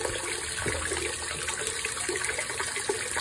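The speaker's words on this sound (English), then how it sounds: "What if I add a little more water?" Water running from a tap into a tub, a steady close splashing flow that continues evenly throughout with no talking.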